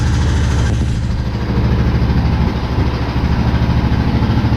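A powersport ATV engine after a cold start, idling loud and close with a steady low throbbing rumble and a slight dip partway through, no voices.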